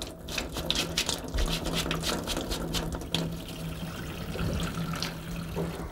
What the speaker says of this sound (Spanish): se pone aquí bajo el agua, se va cepillando y ya está lista para cocinar